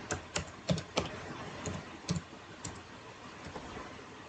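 Keys tapped on a computer keyboard while entering a search into an Odoo 16 menu, a quick burst of distinct clicks with short pauses, close and fairly quiet, no voices.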